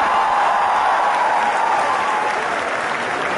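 A large audience applauds MS Dhoni at a cricket-related event, a dense, loud, sustained wash of clapping from many hands with no single claps standing out and no voices over it.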